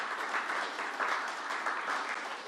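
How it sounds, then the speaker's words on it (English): An audience applauding at a New York event with Governor Kathy Hochul on a proposed subway line, a steady, moderately loud patter of many hands clapping throughout, with no talk over it. "that's worth a round of applause"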